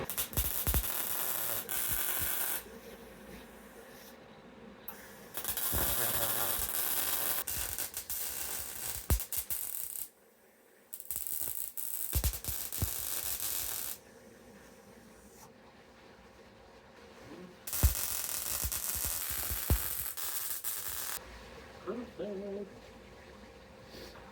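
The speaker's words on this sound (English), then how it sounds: "We're just going to tack this in place at first, just to see how everything shakes out." Sheet metal being tack welded on a Studebaker gives off harsh, crackling hiss in several long bursts, each separated by brief quieter gaps.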